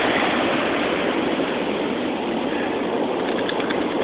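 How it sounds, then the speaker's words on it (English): Large ocean waves, five to six feet, breaking at Coronado's dog beach at sunrise, a steady roaring wash of surf that fills the whole span with no voices. "The waves are pushing pretty hard"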